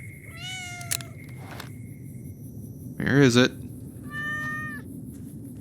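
A cat meows several times in Fallout New Vegas, short tonal cries with one louder, strained yowl in the middle, set over a steady low ambient hum with someone talking briefly early on.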